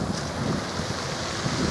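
Wind rushes across the shore while active tidal waves churn steadily underneath, a continuous broadband roar with no clear breaks and no voices.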